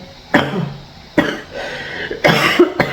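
Three sharp coughs spaced about a second apart, close and fairly loud, with nothing else around them.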